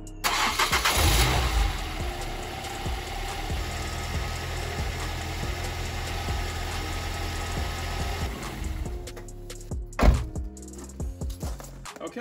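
A Ford Fiesta ST150 starts after a water pump replacement and cooling system service: a loud cranking catch near the start, then a steady mid-pitched idle that runs close by, with a clunk near the end and no talk.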